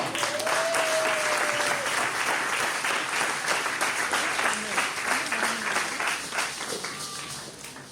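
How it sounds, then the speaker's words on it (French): A church congregation at a wedding applauding the couple loudly, a dense sustained clapping that holds steady then slowly eases, with scattered voices and a cheer mixed in. "Est-ce que vous pouvez les acclamer très fort?"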